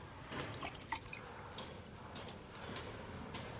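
Water drips and splashes softly in quick, uneven patters while money plant leaves are washed indoors, close and fairly quiet with brief pauses.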